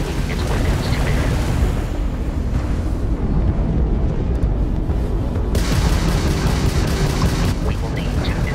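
Crimson Fleet ship weapons firing in the video game Starfield, a loud, sustained roar of booming blasts and rumbling noise that continues without a break.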